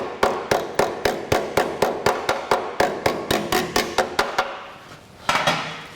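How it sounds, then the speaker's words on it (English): A hammer taps a metal workpiece again and again while it is being tack-welded into place. The blows are quick, sharp and evenly paced, about four each second, ringing close and loud before they stop. "Tap it with a hammer to get it to touch down where you need it touching."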